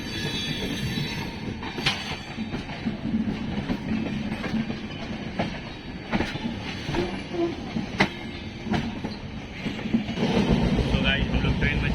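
A train arriving at Ambala Cantt junction rumbles along the platform with clattering wheels and occasional metallic squeals and clanks, heard amid station bustle and people talking nearby.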